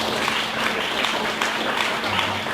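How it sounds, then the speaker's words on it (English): A crowd at a business marketing talk gives the speaker Karim another round of applause, steady, moderately loud clapping that holds at an even level throughout. "one more round of applause for Karim"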